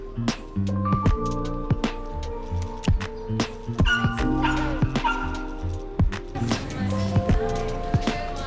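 Several small dogs on loan for a photo shoot in New York yip, whimper and bark excitedly in quick overlapping bursts, close and fairly loud, with faint human sounds mixed in.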